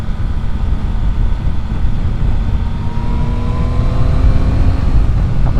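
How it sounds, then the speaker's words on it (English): A 2024 Yamaha XSR900 GP motorcycle engine and exhaust pulling hard on the road, a steady loud drone with rising rev tones sweeping up through the gears, close and continuous with no talk. "I don't know what they've done to the standard exhaust on here, at least I think there's a standard one, but it sounds really good."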